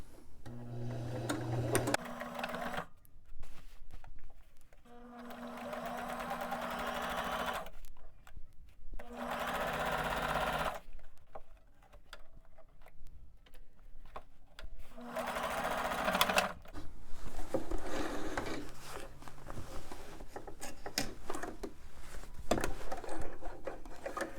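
A sewing machine stitches a long sleeve shirt being cut down into a sleeveless one, running in several bursts of steady rapid whirring and clatter separated by brief pauses, close and fairly loud.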